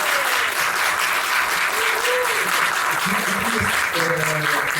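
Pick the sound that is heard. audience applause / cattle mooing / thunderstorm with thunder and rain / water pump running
audience applause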